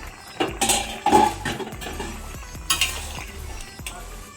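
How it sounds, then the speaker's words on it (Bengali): A lid is lifted off a pot of simmering taro and potato curry for a Bengali fish dish, with clinks and scrapes of metal, a soft bubbling sizzle underneath and a few sharp knocks. "আমি এবার ঢাকনাটা খুলে দেখবো।"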